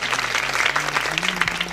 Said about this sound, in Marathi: परत सर्व गावकरी मंडळीच्या वतीनं तिचे स्वागत करण्यासाठी जोरात टाळी वाजवायची.